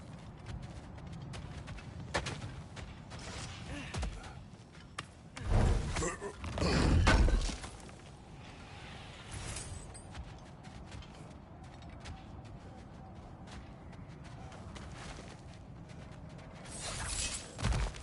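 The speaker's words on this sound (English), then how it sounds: "I'm smashing some things for fun and profit." Objects smashing in God of War: a cluster of heavy crunching, shattering impacts near the middle, with lighter breaking and clattering before and after under a steady game background.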